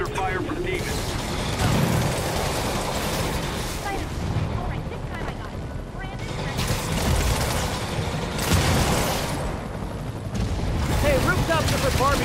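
Gunfire at a rooftop outpost under attack by demons in Marvel's Spider-Man: rapid bursts of shots and mechanical clatter in a busy, loud battle mix, with a voice speaking over parts of it.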